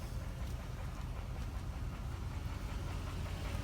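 A 2007 Dodge Durango's 4.7 litre engine idling under an open hood, a steady, low, faint rumble with no variation and no talking.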